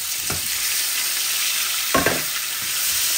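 Pieces of rohu fish rubbed with turmeric and salt frying in a pan: a steady loud sizzle with a few soft clunks and stirring knocks as the fish goes in.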